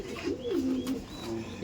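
A high-flying pigeon gives a clear throaty coo, a few rolling low notes that rise and fall over about a second, close by against faint background noise.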